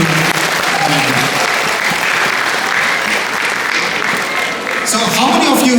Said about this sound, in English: A big applause for all the